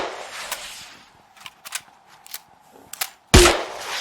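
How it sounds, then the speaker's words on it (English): Grenade launcher firing in Fallout 4, a few sharp reports spaced apart and then a heavier, louder blast at the end, with no talking. "See, I'm firing from the grenade launcher."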